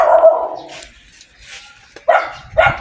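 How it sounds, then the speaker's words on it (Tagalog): A neighbor's dog barks outdoors, a loud close burst followed by a pause and then two sharp, clipped barks near the end. "Tapos may aso pong tumatahol."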